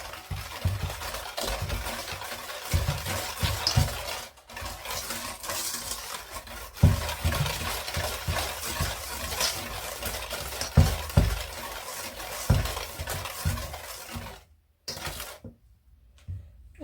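Chocolate cookie dough ingredients being stirred and mixed in a bowl, with repeated scraping and rubbing strokes at close range, briefly pausing near the end.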